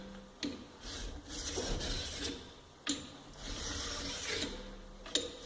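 A file rasps along the edges of a chainsaw bar clamped in a vise, squaring them in three long, even strokes separated by brief pauses.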